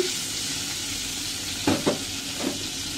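Turmeric, chili powder, salt and ginger-garlic paste with a little water sizzle steadily in a pan, with a few louder scraping knocks as the spice mix is stirred.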